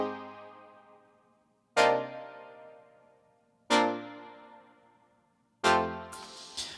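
Bright, stabby jazzy-pop pre-chorus chords from a Studio One demo song: three loud struck chords, each ringing and decaying before the next, the last followed by a brief burst of hi-hat-like noise.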